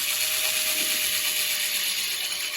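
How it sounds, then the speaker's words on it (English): A steady high-pitched mechanical whir of a power drill drilling into PVC trim, loud and close, with a faint grinding edge throughout. "I drill while I go in, I drill while I pull out"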